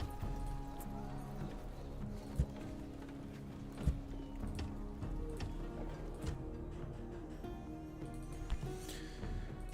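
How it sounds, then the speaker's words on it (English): Horse archers' hooves drum in a Rome: Total War battle, a steady clatter of galloping mixed with game music and a few sharper thumps, with no voices. "And of course it's horse archers."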